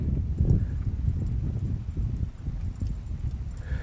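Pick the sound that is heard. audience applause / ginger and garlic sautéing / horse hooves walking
horse hooves walking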